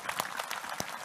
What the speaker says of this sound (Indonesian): Tepuk tangan sekali lagi untuk Mas Giron.